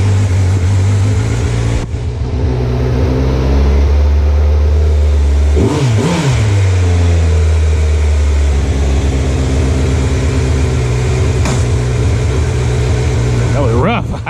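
Kawasaki Z900 motorcycle on a ride, loud steady engine drone with rising and falling revs and gear changes, heavy wind rumble, and a rider talking over it.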